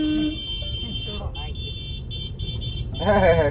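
A car rolls slowly along a road crowded with camels at night, its low steady engine rumble running under people talking.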